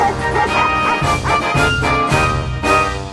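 A dachshund barks repeatedly in a steady rhythm, loud and close, over dense background sound.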